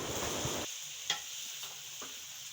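Finely chopped onions fry in oil with a soft, steady sizzle, broken by an occasional light scrape of a spoon, fairly faint and close.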